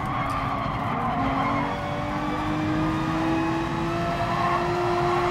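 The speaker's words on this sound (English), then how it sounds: "the guy in 12th has spun out behind me" Gran Turismo Sport race car engine drones loudly and steadily behind a car spinning out, with a faint tyre skid blending into the continuous engine note throughout.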